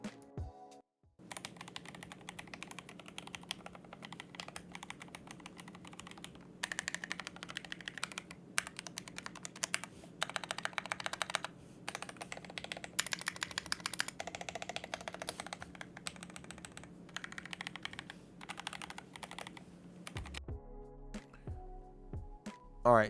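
Someone types on a GMMK Pro mechanical keyboard fitted with PBT keycaps. Close, crisp key clacks run in bursts and flurries with short pauses, and a few louder thocks land near the end.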